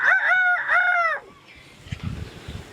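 A chicken gives a loud, close drawn-out crowing call in two linked phrases, then low scattered clucks and rustling follow more faintly.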